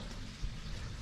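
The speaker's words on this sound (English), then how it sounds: "It's raining, it's raining quite heavy." Heavy rain falls in a garden as a dense, steady hiss and patter, fairly loud and continuous, with no voices over it.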